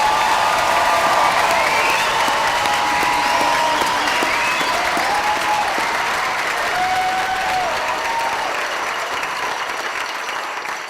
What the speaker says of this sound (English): Let's give our 2024 graduates a big round of applause.